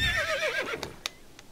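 A mare in Star Stable Online gives a clear, wavering whinny that rises and falls, followed by a few sharp ticks and clicks, close and fairly loud with no talk.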